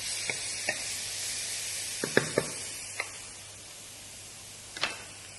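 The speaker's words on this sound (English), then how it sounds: "Make sure your onions and garlic are fried properly" Onions and garlic frying in oil for Malaysian fried bihun, a soft continuous sizzle broken by scattered sharp ticks and clinks of a spatula against the pan, no talking.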